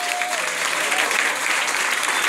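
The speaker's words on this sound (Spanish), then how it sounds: "fuerte el aplauso para ella" Steady applause from a dance party audience fills the whole stretch, dense and even, with a brief voice tone at the start.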